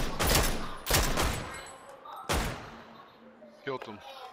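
Several loud, sharp gunshots from the video game PUBG: Battlegrounds ring out in separate bursts, each with a lingering tail, followed by a brief voice near the end.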